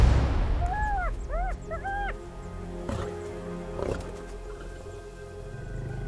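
On the African savanna, lions and hyenas clash over a kill: hyenas give high rising whoops and yelps while deep roars and growls rumble underneath, a dense, continuous wild brawl with no talking.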